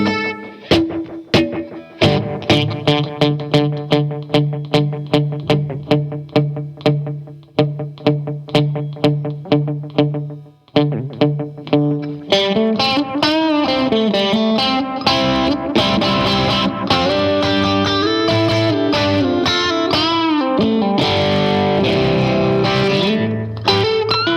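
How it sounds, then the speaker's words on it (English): An electric guitar recorded without an amp plays crisp repeated strummed chords, then moves into sustained, driven lines, each note trailed by a short slapback-like reverb. "I'm basically going to get a short reverb that's basically giving me the equivalent of like a slapback"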